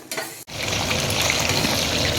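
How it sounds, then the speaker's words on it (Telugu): Steamed chicken, cooked dry without water, drops into hot oil for deep frying to a golden colour; after a brief gap a loud, dense, continuous sizzle and crackle fills the scene up close. "ఆవిరి పెట్టిన చికెన్ని మనం ఇలా డీప్ ఫ్రై చేసుకోవాలండి"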